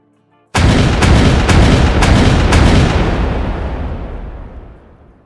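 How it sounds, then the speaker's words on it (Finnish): A 20 mm Oerlikon autocannon fires from a Saurer 4K 4FA tracked armoured vehicle in five loud, evenly spaced booming shots close by, followed by a long rolling echo that slowly fades away. "katolla on 20 mm Oerlikonin konetykki"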